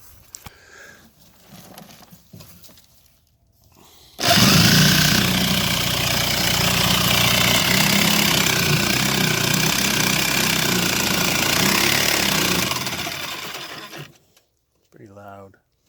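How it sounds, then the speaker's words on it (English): An old jigsaw motor driving a homemade soil sifter trommel starts abruptly and runs loud and steady with a buzzing mechanical drone for about ten seconds, then cuts off, with a voice speaking briefly before and after. "It's an old jigsaw."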